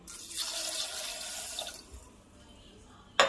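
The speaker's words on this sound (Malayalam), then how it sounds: "വെള്ളം ഒഴിക്കാം" Water runs steadily into a pressure cooker with green gram for curry, a broad splashing stream that tapers off, followed by a short sharp clink near the end.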